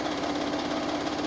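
A sewing machine running steadily during free motion quilting, a close, continuous motor hum and rapid needle chatter at an even speed, with no talk.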